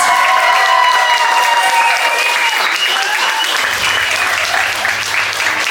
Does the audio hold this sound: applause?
yes